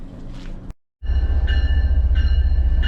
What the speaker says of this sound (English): I think I can hear the railroad crossing in the distance, which means the train's probably coming from the yard